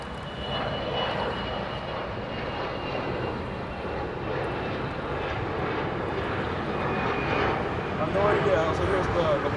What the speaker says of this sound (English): There goes United taxiing here to the north